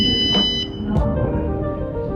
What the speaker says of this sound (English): when the light is over 600, it start buzz and light up